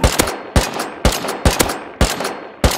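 Gunfire in the Rust video game, six bursts of two or three rapid shots each at a steady pace, sharp and fairly loud with no talking.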